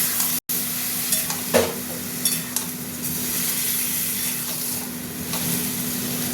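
Spice paste with ginger, tomato and boiled papaya frying in a pan for a papaya curry, a steady close sizzle with a few soft scrapes and stirring clatters.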